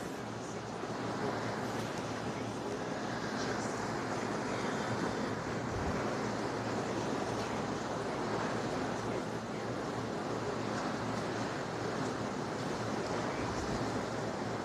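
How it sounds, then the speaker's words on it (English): Strong wind buffets a microphone while waves break and surge on open water under an approaching weather band, a continuous loud roar with broadband rush and occasional low thumps. "it's really windy right now."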